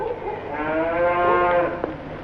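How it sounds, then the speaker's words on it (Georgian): One steady, drawn-out moo from cattle on a farm, sounding fairly close and unaccompanied by speech. "იასონ, დაიწყეთ ახლა თქვენ პირუტყვის და საქონლის მიღება."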